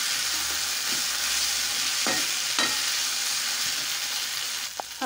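Street-style veg manchurian frying in a pan gives a loud, continuous sizzle, with a few scraping stirs of a utensil; no voices are heard.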